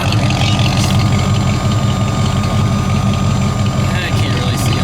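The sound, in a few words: 1989 Mustang LX 5.0 idling through MagnaFlow exhaust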